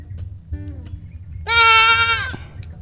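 A fat goat on a farm gives one loud, sustained bleat up close after a brief faint bleat, over low background rumble.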